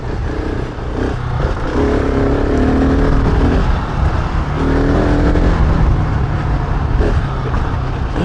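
Husqvarna 701 Enduro dirt bike engine under hard acceleration, a loud, continuous single-cylinder roar rising and falling as the throttle is worked, heard close and steady throughout with no talk.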